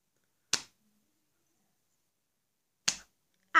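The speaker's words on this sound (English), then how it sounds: "I'm going to clap in shame" Sharp single hand claps, three isolated crisp smacks spaced a couple of seconds apart, close and with silence between them.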